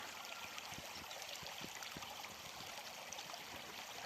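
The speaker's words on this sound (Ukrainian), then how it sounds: "Така річечка, віжанка, гірська річка." A small mountain river on a Ukrainian horse farm flows with a steady broadband rush of water, soft and continuous, with faint low knocks under it and no voices.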